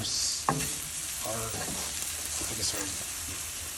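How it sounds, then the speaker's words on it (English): Garlic and vegetables sizzle steadily in a pan as they are stirred, with a few scraping clicks of the utensil against the pan. Cooking for a banana flower dish, steady and close throughout. "we're gonna get that all stirred up in here. And we're gonna let that get nice and soft"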